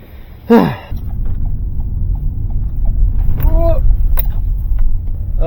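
A car's engine rumbles steadily from inside the vehicle on a drive, a low continuous drone after a short whooshing sweep at the start, with faint brief squeaks and tones over it.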